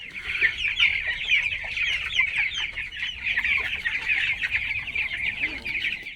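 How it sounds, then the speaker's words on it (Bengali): Many seventeen-day-old broiler chickens at a poultry farm make a dense, continuous chorus of high peeping clucks, close and steady. "আসেন আমরা একটু ভিতরে যাই আপনার মুরগি দেখি"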